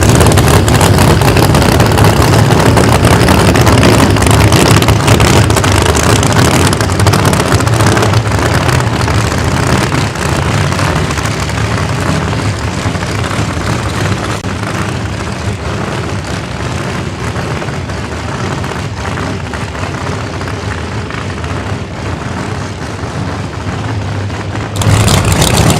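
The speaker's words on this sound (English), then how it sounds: "Garula with 959 cubic inches of nitrous injected Hemi under the hood. Making some noise." A nitrous-injected 959 cubic inch Hemi hot rod engine at a drag strip, a loud continuous roar that holds steady for about 25 seconds, with no talk over it.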